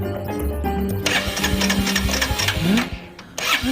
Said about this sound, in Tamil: வண்டி ஸ்டார்ட் ஆக மாட்டேங்குது.